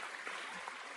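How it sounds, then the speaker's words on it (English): A short burst of applause, played as a sound effect on a gaming podcast stream, crackles steadily for about a second at moderate volume. "Just some round of applause for Razor."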